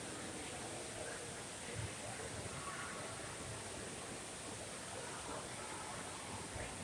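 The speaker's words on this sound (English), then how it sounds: "Another little waterfall right here." A small indoor waterfall in a casino, a faint, steady splashing wash that continues without breaks, with no clear voices over it.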